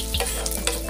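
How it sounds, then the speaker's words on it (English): Garlic sautéing in a hot pan for Ilocano pinakbet, a bright close sizzle broken by a few quick stirring scrapes as it cooks toward light brown. "Tapos, lagyan natin yung bawang. Haluin lang natin hanggang mag-light brown."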